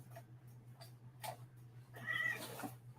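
A house cat meows a few times in short faint calls, the last one longer, over a steady low electrical hum in a quiet room.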